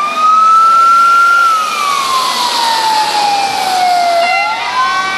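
An ambulance siren at a car crash scene wails loudly and close, sliding slowly up and down in pitch in a long continuous sweep with no talking.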